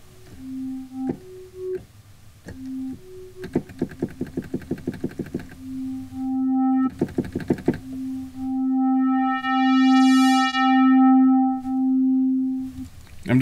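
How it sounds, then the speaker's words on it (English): Synthesizer playing a filtered pulse-wave patch with slight detune, sounding as a series of sustained tones and rapid repeated plucky notes, with one long sweeping note rich in bright harmonics, alone and fairly clear. "I'm definitely hearing some of this filter mix pulse with some detune"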